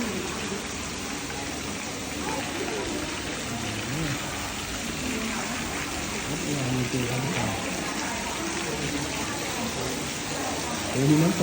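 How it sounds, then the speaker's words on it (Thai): A waterfall at a forest temple in Phayao, Thailand, rushing in a steady, moderately loud wash of flowing water, with a few voices talking briefly over it. "มีน้ำตก"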